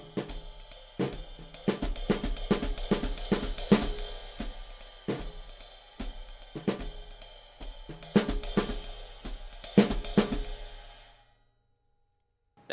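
A jazz drum kit plays suddenly loud, with crashing cymbals and hard snare and bass drum hits in busy bursts that ring out and fade to silence near the end.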